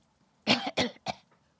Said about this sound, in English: judging by that cough